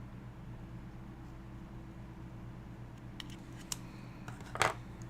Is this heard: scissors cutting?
yes